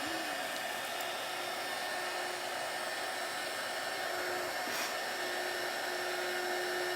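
Heat gun blowing continuously during a pumpkin DIY project, a steady loud whooshing roar with a motor whine that holds level throughout, close up and with no talking.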